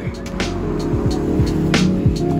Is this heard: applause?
no